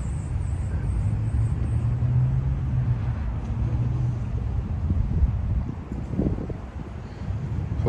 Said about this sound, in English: Hopefully the wind isn't that bad.